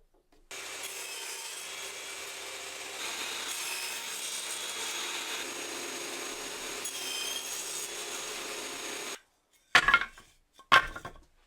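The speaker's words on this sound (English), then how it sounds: "so I can get these cut on the table saw" A table saw cuts wooden apple crate slats, a steady loud whining rip lasting about nine seconds, then stopping, followed by two short sharp knocks of wood being handled.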